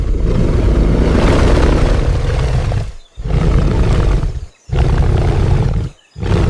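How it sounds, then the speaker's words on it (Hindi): A tiger roars in a wild forest setting, three long loud throaty roars each lasting a few seconds, separated by brief silent gaps, heard close with no talk. "जब भी किसी जंगल में टाइगर की दहाड़ सुनाई देती है"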